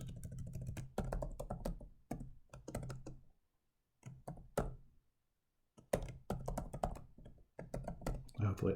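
Typing on a computer keyboard in bursts of rapid clicky keystrokes separated by a couple of quiet pauses, close and fairly loud, with no talking.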